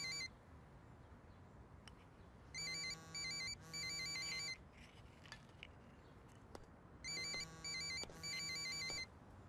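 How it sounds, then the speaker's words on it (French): A mobile phone ringtone plays in two bursts of repeated electronic melody, separated by a quieter pause with faint background rustle; no one speaks. "C'est le portable de Carlotta"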